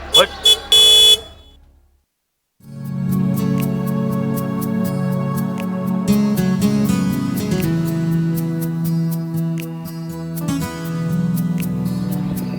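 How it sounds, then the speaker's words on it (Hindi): A car horn gives a few quick, loud toots, then drops to brief silence before steady dramatic music takes over. "ये तो मेरे पुत्र मजम की गाड़ी नहीं?"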